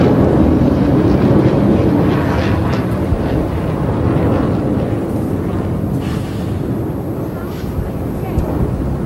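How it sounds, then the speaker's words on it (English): A loud, continuous roar of military training aircraft, fighter planes and helicopters passing overhead at a state funeral, broadband rumble with wind buffeting the microphone throughout. "A mixture of planes here, training aircraft and fighter planes and helicopters."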